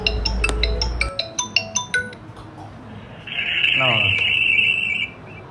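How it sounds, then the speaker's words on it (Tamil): A mobile phone plays a ringing tone while calling a number, following a burst of electronic beeps and tones, with a voice speaking over part of it. "இப்போ நம்ம அதே நம்பருக்கு கால் பண்ணி நம்ம செக் பண்ணிடலாம்"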